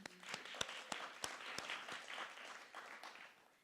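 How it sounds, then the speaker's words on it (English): Audience applause at an evening event, a few sharp nearby claps at the start giving way to a soft, distant spread of clapping that gradually thins out. "let's give a huge round of applause."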